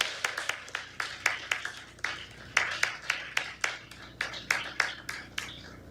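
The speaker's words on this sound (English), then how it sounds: "And you can join me in applauding that." Audience applause at a law school swearing-in ceremony: a few people clapping in uneven bursts of sharp hand claps, moderately close in a room, no talking.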